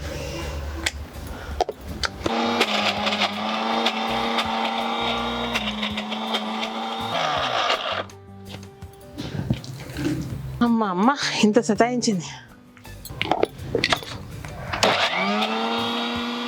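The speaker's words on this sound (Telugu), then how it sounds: "మిక్సీని అందరినీ వాడుకోమని ఇటు పెడితే ఇట్లా చేసింది చూడండి ఇంతసేపా." A kitchen mixer grinder whirs loudly for several seconds, stops, then starts again with a rising motor whine, while someone talks in between and over it.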